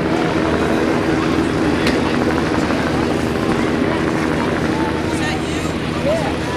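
A Bell 206 single gas-turbine helicopter climbs toward 6,000 feet carrying a parachute team: a steady, broadband rotor and turbine roar that holds loud and unchanging throughout, with no pauses.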